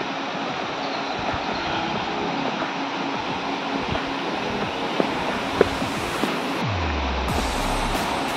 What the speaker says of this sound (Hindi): तो ये झरना का पानी आ रहा है कहाँ से